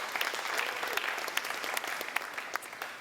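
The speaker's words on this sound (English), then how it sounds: "y'all give Kevin a round of applause, please" Audience at a TD club kickoff event applauding, a steady wash of many hands clapping, moderately distant and fairly soft, running the whole time.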